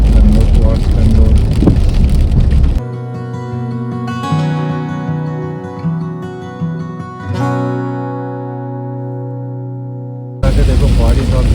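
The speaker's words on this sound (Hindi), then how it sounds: "देखो बारिश और कितनी तेज हो गई है।" Heavy rain pours on a car driving a highway near Bangalore, a dense rushing hiss at the start and end, with a steady droning tone in the quieter stretch between.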